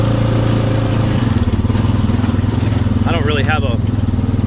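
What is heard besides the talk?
2016 Honda Rancher ATV engine driving through mud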